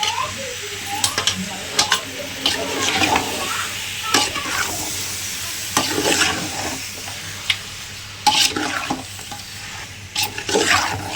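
Chicken pieces frying in a hot pan as they are stirred, with a continuous sizzle broken by scraping and clattering strokes of the spoon, fairly close and loud.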